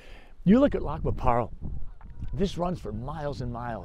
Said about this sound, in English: You can hear the geese in the background.